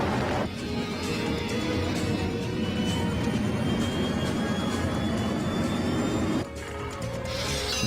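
A jet airliner roars loud and steady in a crash scene over the World Trade Center in lower Manhattan, a dense rushing engine drone that breaks off sharply near the end and then resumes.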